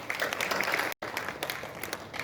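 An audience at an anniversary commemoration and award ceremony applauds warmly, with dense, steady clapping that continues throughout and has one brief dropout.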